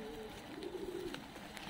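Fighting pigeons, a male and female, coo softly on a sunny day in Tbilisi, Georgia, a low warbling purr under background murmur and noise.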